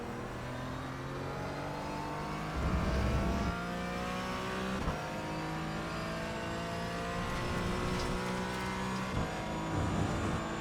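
Race car engine in the iRacing sim revving hard through the gears, with sustained high-pitched acceleration broken by repeated downshift blips and braking dips, loud and continuous with no talk.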